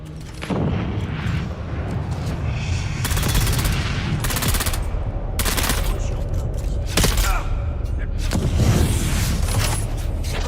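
Video game gunfire in an online role-play shooter, dense bursts of rapid automatic shots crackling in repeated volleys over a continuous rumble, loud and close throughout.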